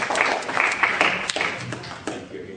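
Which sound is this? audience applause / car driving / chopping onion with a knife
audience applause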